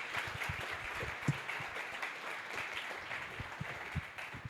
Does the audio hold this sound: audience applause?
yes